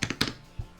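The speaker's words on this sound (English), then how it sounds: "Oh, I didn't have to do all this typing." A computer keyboard is typed on in a short burst of four or five quick, close key clicks followed by a single softer thump.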